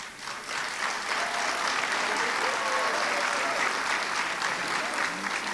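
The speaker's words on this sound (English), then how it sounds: "I'm going to ask that you hold your applause to the end just so we can get through all of the names." Applause fills the room at a university honors ceremony, a thick, even roar of many clapping hands sustained for several seconds, rising quickly after a brief quieter start.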